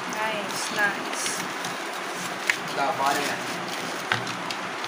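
Strong wind gusting hard against a phone microphone outdoors, a broad rushing roar with brief louder buffets, while a voice speaks briefly over it.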